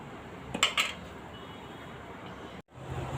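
A kadai set down on a stove, two close metallic clanks early on over a low kitchen hum, followed by a short cut to silence and renewed background noise.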